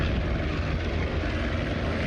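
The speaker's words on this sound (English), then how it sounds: "Final salutes included a helicopter flyover" A steady, loud rotor-and-engine drone of a helicopter flyover at a police memorial service, continuous and dense throughout with no voices.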